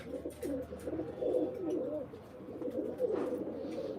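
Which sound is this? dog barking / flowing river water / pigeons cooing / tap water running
pigeons cooing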